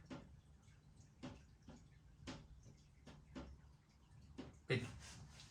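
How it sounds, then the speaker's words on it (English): Rain water dripping on a roof during a rainy day, a series of soft, irregularly spaced taps and drips against a quiet background, with a sharper knock near the end. "apologies for that drip on the roof right above your head."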